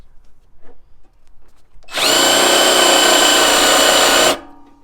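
A power drill driving a poor-quality screw that fails to bite, during work on an F-body car's cold air intake: after quiet shuffling, a loud steady whine runs for about two and a half seconds, then cuts off abruptly.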